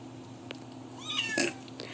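A domestic cat gives a short, fairly quiet meow with a rising, wavering pitch, lasting about half a second against low household background noise.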